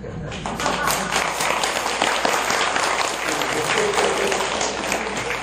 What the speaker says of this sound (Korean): 박수 치려면은 북한 사람처럼 쳐야 되지